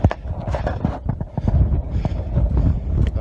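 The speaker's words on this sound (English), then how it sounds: "The wind is blowing from my right and has been steady" Fast, steady wind buffets the microphone on a fog-bound Mount Rogers ridge in the Grayson Highlands as a storm moves in, a continuous loud roar with gusty low-end rumble and no speech.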